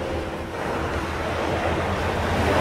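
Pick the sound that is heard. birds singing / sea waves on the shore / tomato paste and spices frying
sea waves on the shore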